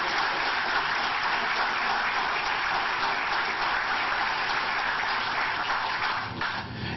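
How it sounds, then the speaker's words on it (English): Sustained, dense applause from a large audience at a company expansion announcement, steady and loud throughout, tapering slightly near the end with no talk over it. "Let's have a round of applause for him."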